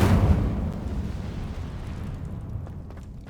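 The Incendio fire spell is cast in the video game Hogwarts Legacy. A loud, deep burst of flame hits at once and then fades into a rumbling roar over a few seconds.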